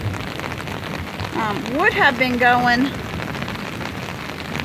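Steady rain falls outdoors beside a water-filled drainage ditch and trench near a house, a continuous patter throughout, with someone talking over it midway.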